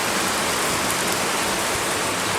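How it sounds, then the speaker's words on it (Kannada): Heavy rain pours steadily in a green outdoor setting, a dense, even hiss with no pauses, loud and close throughout. "ಮಳೆ ಮಳೆ"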